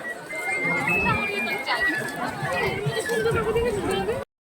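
A busy New Digha beach hums with crowd chatter, a continuous babble of many nearby voices mixed with background bustle, holding steady before cutting off abruptly.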